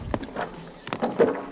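Horse hooves strike turf in a few uneven, close thuds as a show jumper moves around a five-star grand prix course, with a commentator talking over them.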